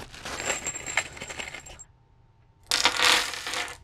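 Small metal bolts, nuts and washers for a wind generator blade assembly being handled, producing close, jingling clinks in two bursts separated by a short quiet pause.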